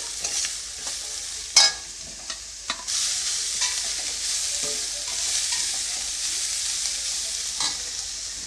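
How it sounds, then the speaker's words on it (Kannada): Beans and cabbage stir-fried and mixed in a pan for paneer fried rice, a bright steady sizzle with intermittent spatula scrapes and knocks, close and without voices. "ಸ್ವಲ್ಪ ಎಲೆಕೋಸು ಹಾಕ್ಬಿಟ್ಟು ಚೆನ್ನಾಗಿ ಮಿಕ್ಸ್ ಮಾಡ್ಕೊಳ್ಳಿ"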